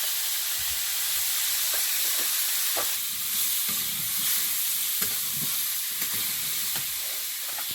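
Spice paste with cumin powder, turmeric and salt fries in a pan with potatoes and tomatoes, giving a steady, moderately loud hiss and sizzle throughout, with a few soft stirring knocks and no talk.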